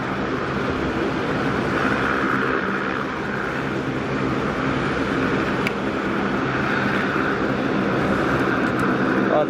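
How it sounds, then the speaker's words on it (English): An R44 helicopter's rotor and engine roar steadily overhead at an airport, a loud, continuous whooshing drone that never lets up. "Sounds so cool when you're just right under the blades of the R44 helicopter."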